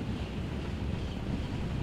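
Icy wind gusting in the PS3 video game Legend of the Guardians: The Owls of Ga'Hoole, a steady, loud, roaring rush of air that continues without a break for the whole stretch.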